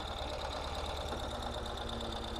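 A Ural motorcycle engine idles close by with a steady, slightly knocking chug as the clutch is let out, giving an even mechanical rumble with no change in pace.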